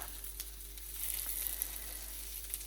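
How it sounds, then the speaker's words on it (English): A couple of vegetarian sausages sizzling in a pan with no oil, giving a close, continuous crackling hiss with tiny pops throughout. "So we've got a couple sausages going. I forgot to bring oil, so they're just cooking here like this."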